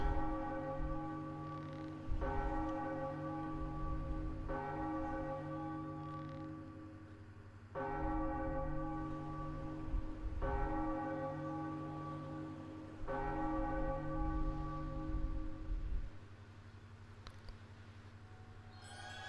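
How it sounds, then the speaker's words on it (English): Large bell tolling in The Legend of Zelda: The Wind Waker HD, struck in a slow steady rhythm of about eight loud, ringing peals, each sustaining and decaying into the next, with no talk over it. "As soon as we start swinging, the bell will start ringing."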